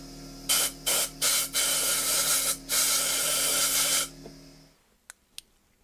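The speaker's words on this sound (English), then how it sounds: "I'm going to get my air compressor and blow this out." Compressed air from an air compressor blasts debris out of a woodturning lathe tailstock in several loud, close hissing bursts, short ones first and then a long sustained blast, followed by quiet with a couple of faint clicks.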